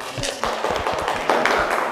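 Classroom students clap together briefly during a sociology lesson, a dense patter of hand claps at close range that swells slightly toward the end.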